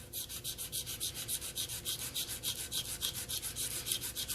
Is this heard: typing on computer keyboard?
no